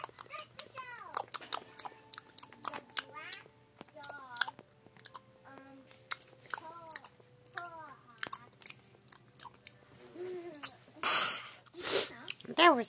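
Teletubbies eating Tubby Toast: a string of chewing, munching and biting noises, mixed with cartoonish vocal squeals and sniffs, grows louder toward the end. Voices seem to imitate the eating sounds.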